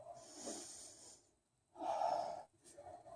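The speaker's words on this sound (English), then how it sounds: "One more deep breath." Deep, audible breaths during a yoga session, a slow inhale and a long, louder exhale, close and breathy with a soft pause between them.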